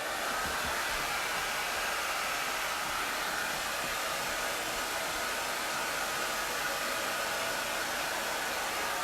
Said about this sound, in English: gonna turn on the blow dryer because she's gonna dry some things for me